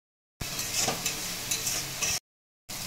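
Spice paste with a little Kashmiri red chili powder sizzles and fries while being stirred in a pan, a loud, dense crackle broken by scraping strokes, cutting out abruptly before briefly resuming.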